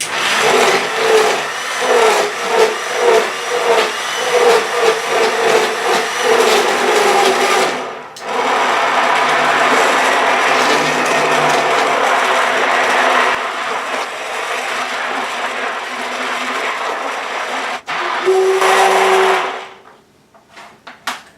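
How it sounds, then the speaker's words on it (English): An immersion blender whirs through paleo cream of mushroom soup, a loud steady motorized drone with brief pauses and shifts in pitch as it works, with no talking over it. "you can keep blending until you get it completely smooth"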